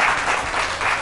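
Studio audience applause on a Pakistani morning talk show, a short, loud burst of many hands clapping in dense waves that swell and dip, no voices over it.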